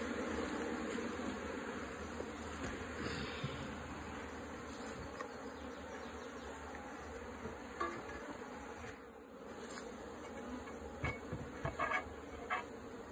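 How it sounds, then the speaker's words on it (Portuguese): Honey bees buzz around an opened hive super during a honey check, a dense continuous hum at low level with occasional light knocks of handling. "Bastante abelha mesmo."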